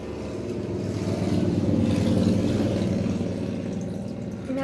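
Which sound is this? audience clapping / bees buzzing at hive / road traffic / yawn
road traffic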